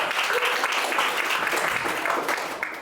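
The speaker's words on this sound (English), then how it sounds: "Let's get started with a round of applause." A crowd claps steadily in sustained applause, dense and loud throughout, with no pauses.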